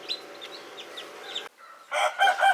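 Gamecock roosters and hens raised for Sankranti cockfights squawk and cluck in a steady run of harsh calls, fall briefly quiet, then break into louder, closer bursts.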